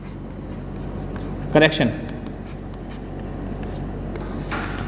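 Writing on a board during a class lecture, with a few short scratchy strokes under a teacher's steady talk.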